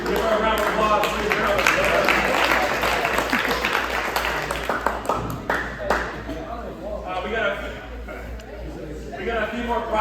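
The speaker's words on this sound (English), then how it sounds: "Give her a round of applause, please." A crowd at a basketball awards event claps for a woman who has just won Portland Trail Blazers season tickets, the dense applause filling the first six seconds before thinning, with chatter and voices running through it.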